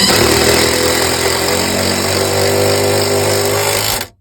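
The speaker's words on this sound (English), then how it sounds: "We're going to go ahead and screw that" A power drill drives a screw into a wooden mud sill, a loud, steady whirring grind that runs continuously and then cuts off abruptly at the end, with no talking.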